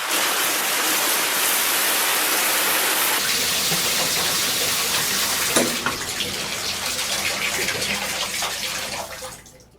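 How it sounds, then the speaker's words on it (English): Water from a shower pours steadily in a dense, hissing spray for several seconds, then the flow changes and thins before fading out at the end, with no voices. "another friend advised me to take a cold shower"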